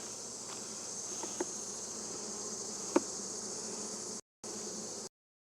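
Steady honeybee buzzing fills the air around an open hive during a honey harvest, a dense insect drone with a couple of brief clicks, cutting out abruptly near the end.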